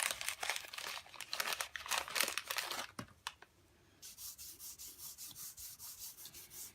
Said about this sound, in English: so I'll use my embossing buddy now.